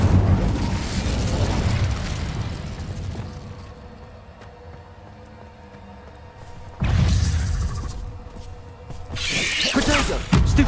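Incendio fire spell cast in the Hogwarts Legacy video game: a rumbling, roaring blast that swells, fades to a low hum, then bursts again loudly near the end with crackling, explosive bursts.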